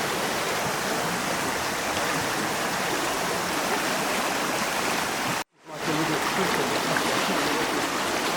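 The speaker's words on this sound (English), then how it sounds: "It's creating this very dramatic flow of the water, making the waterfalls and the rapids even more dramatic." Flooded river rapids and waterfalls in Anglesey, Wales, in autumn, a loud, steady roar of rushing water that fills the whole clip. It cuts out for a moment partway through, and no one talks.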